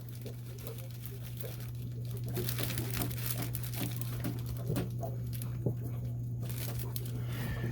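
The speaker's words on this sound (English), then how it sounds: "Open up a Ziploc bag, put the bag over the oil filter." Faint crinkling of a plastic Ziploc bag being worked over the oil filter of a boat engine, soft rustles scattered over a steady low engine-bay hum, with no talking.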